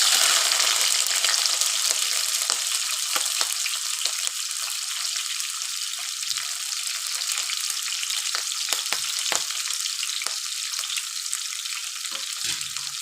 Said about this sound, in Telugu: ఇప్పుడు నేను 2 ఆనియన్స్, 4 పచ్చిమిర్చి ఇవి కూడా ఇప్పుడు యాడ్ చేస్తున్నాను